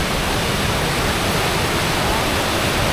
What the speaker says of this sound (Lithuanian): Koks krioklis.